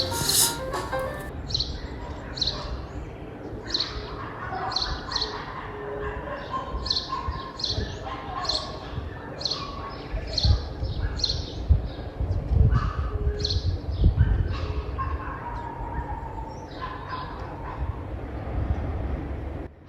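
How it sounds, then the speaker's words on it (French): Birds sing near a flowering yellow lapacho tree during a Paraguayan spring, with repeated bright chirps in a steady pattern over a low, rumbling background that continues throughout. "on a écouté un peu le chant des oiseaux avec le Lapacho amarillo"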